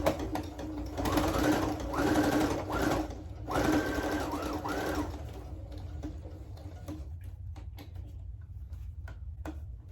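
A sewing machine stitches a pleated face mask in bursts of rapid mechanical hammering that speed up, then stop, leaving quieter clicks and fabric handling near the end.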